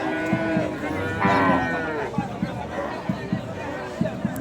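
A Sahiwal milking cow lets out a long, loud, close moo, with a second lower moo soon after, over a busy cattle market with crowd chatter, people talking and scattered sharp knocks.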